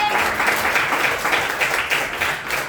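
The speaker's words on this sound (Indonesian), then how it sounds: "Oke, kasih aplaus lagi." A class applauds with dense, steady clapping that keeps an even rhythm for a few seconds, filling the room at moderate loudness.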